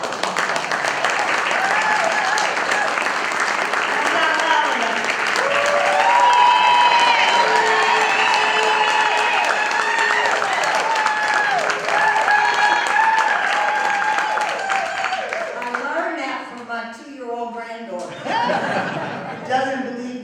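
An audience at a tribute event for Ebon Dooley bursts into sustained applause and cheering, loud and full, with whoops and laughter mixed in before fading as a voice starts to speak near the end.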